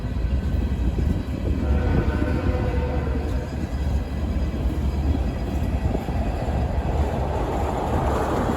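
A freight train hauled by locomotives, including a specially painted 911 first-responders tribute unit, rumbles past close by with a steady loud roar and faint clattering of wheels on rails.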